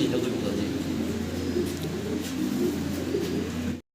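Low, steady cooing of fancy pigeons fills the clip, a continuous murmuring rumble from several birds close by, ending in a brief cutoff.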